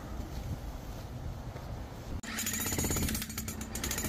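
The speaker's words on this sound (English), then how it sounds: "Our boss jackhammer went down, so we got this Harbor Freight special." A Harbor Freight jackhammer breaking a concrete parking lot hammers loudly in rapid, steady bursts after a couple of seconds of rough rumbling, close by and continuous to the end.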